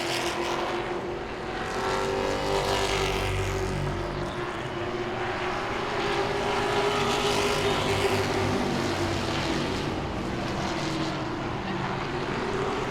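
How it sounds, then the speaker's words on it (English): Grand Stock race cars roar around Langley Speedway in a continuous, moderately distant engine drone that swells and fades slightly as the pack passes, heard alone without talk. "Robbie Parker, he makes the pass, takes over the second spot down the back straightaway"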